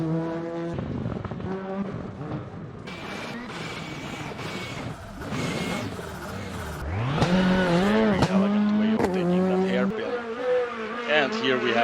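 A rally car at Rajd Rzeszowski, a round of the Eastern European Rally Championship, roars through a gravel section, its engine note rising and falling through gear changes while a commentator talks over it.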